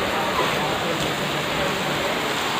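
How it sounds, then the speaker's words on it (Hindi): A steady, dense hiss of heavy rain pouring down, unbroken and fairly loud, with no distinct individual drops or voices standing out. "कितनी खुल के बारिश हुई है आज"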